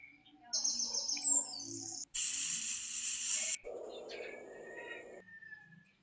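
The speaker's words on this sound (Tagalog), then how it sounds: "tunog ng hangin, kaluskos ng dahon at huni ng mga ibon" Birds chirp and tweet over gusts of wind and the rustle of leaves, with shifting bursts of noise and calls in a quiet outdoor scene.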